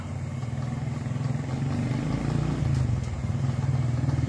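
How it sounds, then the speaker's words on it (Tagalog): A motorcycle passes along a dark street at night, its low rhythmic engine putter steady and moderately close, swelling slightly midway. "Ay, may motor."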